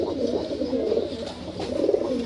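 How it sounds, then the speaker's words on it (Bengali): Two pigeons cooing continuously, soft low throaty coos rolling over one another at close range against a steady background hum, no talking. "এই যে দেখেন দুইটা কবুতর মাসাল অনেক সুন্দর দুইটা কবুতর"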